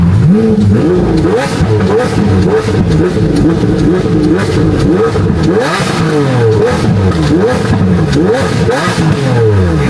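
A Lamborghini Aventador LP-700 engine revs repeatedly, pitch climbing and dropping in quick bursts, close by and dominating the whole stretch.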